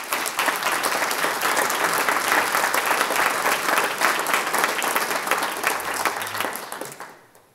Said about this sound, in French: je crois qu'on peut l'applaudir aussi